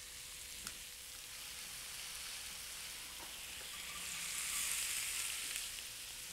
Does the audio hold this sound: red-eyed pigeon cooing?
no